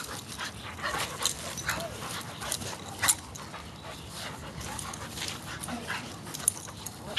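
A dog whimpers, whines and pants steadily while playing with another dog, with quick breathy panting and occasional high yips throughout, close and continuous.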